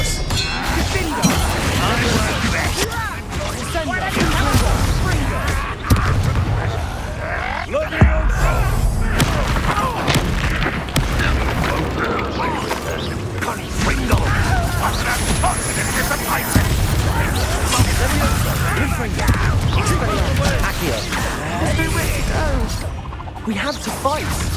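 Blasting-curse explosions from Hogwarts Legacy, repeated booms and crashes in a dense, continuous combat mix, with voices calling out spells over the top throughout.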